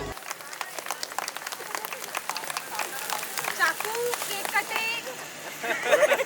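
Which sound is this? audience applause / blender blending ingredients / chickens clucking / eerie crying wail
audience applause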